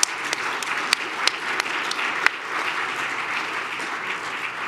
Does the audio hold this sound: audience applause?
yes